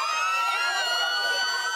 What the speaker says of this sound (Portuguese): A sirene é o alerta.